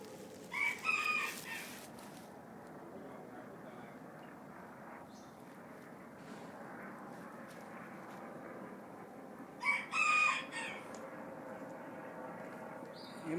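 A rooster crows twice at a distance, each call a brief rising cry about nine seconds apart, over a low steady rural hum and faint background noise.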